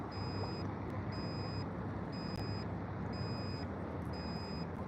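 A boat's shallow water alert sounds while anchored on the Missouri River during pike and walleye fishing: five evenly spaced electronic beep bursts, roughly one per second, over steady broadband wind and water noise.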